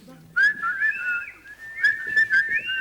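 A person whistles a wavering, sliding tune, steady and fairly close, with no talking.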